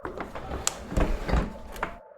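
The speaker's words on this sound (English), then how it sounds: "In that moment, the door behind him was opened" A door creaks and rattles open in a dark house during a rainy night, several thumps and scraping knocks over two seconds, moderately close, ending abruptly in silence.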